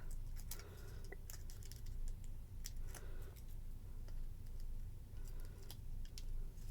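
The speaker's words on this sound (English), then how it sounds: "now I gotta peel all the papers off" Crisp, scattered ticks and soft tearing as backing papers are peeled off cardstock pieces for a handmade card, close and fairly quiet, irregular in rhythm with no talking.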